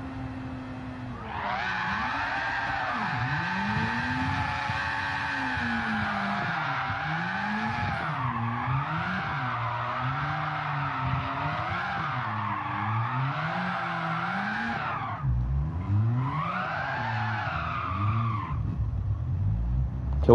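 A Mazda RX7 drift car skids and revs for about twenty seconds, its rotary engine rising and falling in pitch with long tire squeal. A short gap comes near the end before another burst of revving and skidding.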